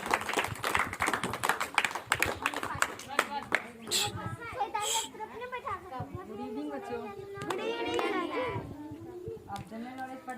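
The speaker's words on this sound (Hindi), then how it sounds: "तो तालियों से स्वागत कीजिए हमारे ईश्वर भैया का।" An audience of children claps to welcome a student playing a teacher at a Teacher's Day celebration, with brisk, dense clapping at first that gives way to children's voices and chatter.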